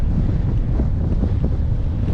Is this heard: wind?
yes